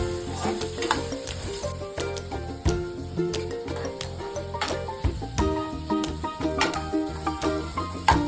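Tomato and onion tempering sizzles and crackles in a hot pan for upma while a spoon stirs and scrapes through it, close and continuous.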